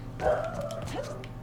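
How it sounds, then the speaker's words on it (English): A pet dog named Spotty gives a short yelping bark followed by a softer whimpering yip, close and fairly clear over a low background hum. "that's my dog telling me that things are moving past my house"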